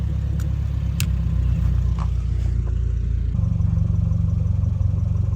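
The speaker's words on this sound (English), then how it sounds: "You can hear the turbos now." A 2022 Subaru WRX with an MBRP axle-back exhaust runs steadily with a deep rumbling idle and a faint rising turbo whine, then settles into a rougher, pulsing drone.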